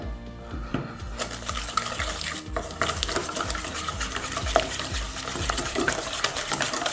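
Butter, sugar and a whole egg whisked by hand in a bowl for a strawberry rhubarb tart, a steady run of quick scraping strokes against the bowl sides, close and fairly quiet, with no talking.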